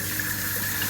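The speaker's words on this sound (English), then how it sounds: "I'm just going to kind of rinse it till that water underneath kind of comes out clear" Cold tap water runs steadily over rice being rinsed in a sieve, a continuous, even wash of splashing water at close range with no talking.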